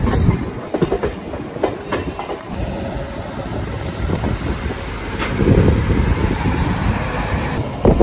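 Rajahmundry–Visakhapatnam MEMU Express running on railway track, with a steady rumble and rhythmic clickety-clack of wheels over rail joints, heard from on board and growing slightly louder toward the end.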